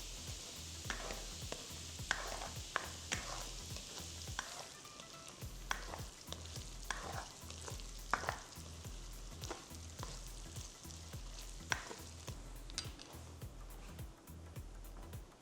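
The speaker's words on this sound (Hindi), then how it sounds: "तो ये 1 कप घी में हल्दी फ्राई हो रही है" Fresh turmeric frying in about a cup of ghee, a soft steady sizzle with repeated stirring clinks and scrapes at an irregular rhythm, faint and close.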